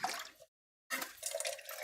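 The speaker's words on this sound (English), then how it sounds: "Rinse this brush." Water splashes while a paintbrush is rinsed at a sink, in two short bursts split by a brief gap of silence, fairly near and moderately loud.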